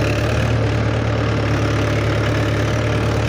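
A heavy Mahindra 475 DI tractor engine idles loudly and continuously, a steady low throb with a rough, knocking texture, no speech.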